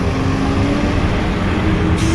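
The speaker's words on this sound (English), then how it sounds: "there are buses like this one over here, or, you know, bendy buses" An articulated bendy bus passes on a San Francisco street with a loud, steady engine drone and road roar close by, no voices.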